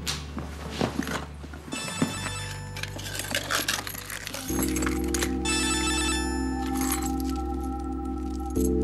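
An electronic telephone ring chirps in bursts within a drama scene, the harmonic tone starting and stopping repeatedly over a low background hum, with no talk over it.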